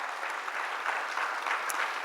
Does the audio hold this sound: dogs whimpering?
no